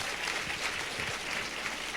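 A church congregation claps loudly together, steady, dense applause filling the room for the whole moment, with a faint voice underneath.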